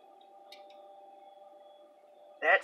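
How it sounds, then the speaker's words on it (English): High-pitched electrical whine from a transformer or capacitor inside a disassembled Olympus 8mm camcorder, a steady faint tone running throughout with a brief louder burst near the end. "That sound, it's the sound of either a transformer or a capacitor,"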